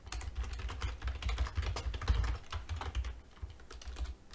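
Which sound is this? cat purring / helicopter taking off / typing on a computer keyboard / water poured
typing on a computer keyboard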